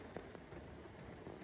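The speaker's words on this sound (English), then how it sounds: "we were just woken up by loud rain, so the storm is here" Rain from a night storm pours steadily over a horse camping site, a faint, even hiss and patter with no other sounds on top.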